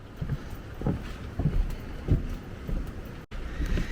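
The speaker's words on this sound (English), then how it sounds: "it's still windy" Wind blows across a microphone beside a murky, current-filled waterway in old Florida, a steady low roar with rhythmic gusting swells and a brief dropout near the end.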